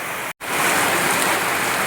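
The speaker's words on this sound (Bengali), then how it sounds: "কি মুষলধারাতে জোরে জোরে বৃষ্টি পড়ছে, দেখো আপনারা তো বৃষ্টির আওয়াজ শুনতেই পাচ্ছেন।" A heavy monsoon downpour falling at night, a dense steady hiss of rain with a brief cut near the start, loud and close, with no voices.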